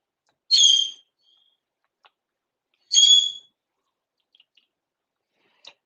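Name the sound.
pet bird talking to itself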